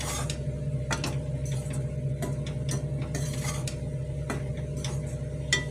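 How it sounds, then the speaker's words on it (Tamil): Ingredients for wheat idli dry-roasted in a pan, stirred with a steady scraping and frequent small clicks of a utensil against the metal, continuous and close. "இதை நல்லா வாசனை வர வறுத்துக்கணும்."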